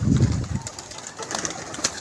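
Pigeon cooing from a fancy flying pigeon at a pigeon club, a low rumbling coo loudest in the first half-second, then fading into faint background noise.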